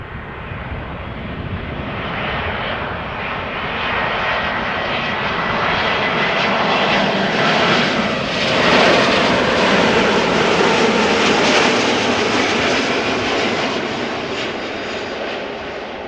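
A fixed-wing airliner arrives on runway 06 at Amsterdam Schiphol Airport, its loud engine roar steady and broadband, swelling slightly as it passes close by, with no talk over it.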